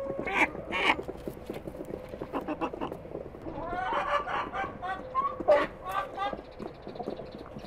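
Hens clucking and calling close by, a busy run of short bursts and drawn-out squawks that goes on throughout, with a person speaking among them.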